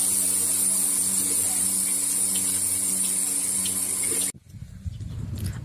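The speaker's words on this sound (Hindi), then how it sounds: "मशीन धो रहे हैं। दूध निकालने के बाद आप अच्छी तरह से मशीन धोकर रख दीजिए।" Water sprays and hisses steadily while a milking machine is washed out on a dairy farm, then cuts off abruptly and leaves quieter, softer handling noises.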